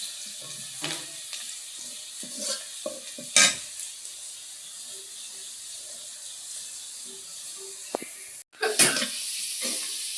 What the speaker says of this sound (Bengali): এই যে পেঁয়াজ রসুন দেখেন ব্রাউন কালার হয়ে গেছে